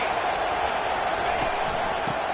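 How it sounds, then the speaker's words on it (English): Crowd noise at a football stadium before an Auburn rivalry game, heard as a steady, dense roar with no breaks from start to finish. "This crowd bringing the energy and noise early."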